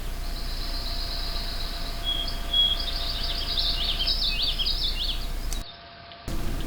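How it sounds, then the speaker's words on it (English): Birds chirping around a lakeside campsite in a state park, a cluster of high trills and tweets over steady insect buzz and outdoor hum, moderately distant, briefly dropping out near the end. "Listen to those birds."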